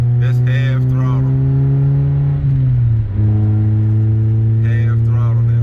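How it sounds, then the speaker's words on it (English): A Honda Accord CB7 with a swapped SOHC VTEC F23A engine accelerating at half throttle from inside the cabin, a loud, smooth rising engine drone with a brief dip at a gear change, while someone talks over it. "I'm gonna just go a little bit on the throttle, like, it's just crazy how it picks up great"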